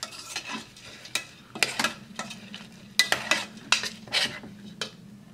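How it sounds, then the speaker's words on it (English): A spoon stirs muesli with hot water in a metal mess kit, scraping and clinking in a quick series of close, sharp strokes over a low steady hum, with no talk. "Give it a little stir."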